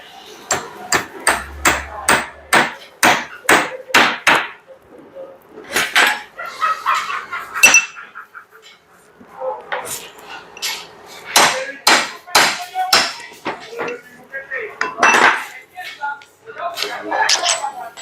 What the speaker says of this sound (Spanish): El martillo, la maceta.